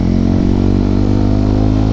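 Motorcycle ridden in winter, a loud close steady engine drone with a low throbbing hum.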